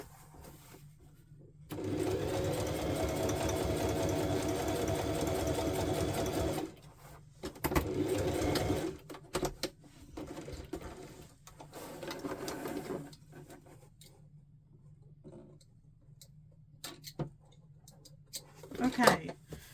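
A sewing machine runs a steady basting seam through fabric pieces for several seconds, then gives a few shorter bursts; a voice speaks quietly between the bursts.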